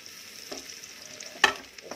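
Ginger garlic paste with asafoetida, fenugreek leaves and green chilli frying in a pan: a short, steady sizzle with a sharp burst of crackle as something hits the hot oil.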